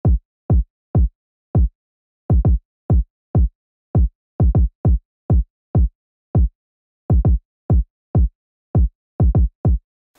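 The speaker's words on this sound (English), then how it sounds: "So yeah, the kick pattern just ended up sounding like this." A sparse Afro dancehall kick drum pattern for a Mo Stack type beat: deep, punchy single and double thumps with silence between them in a syncopated groove, loud and isolated, with no other instruments.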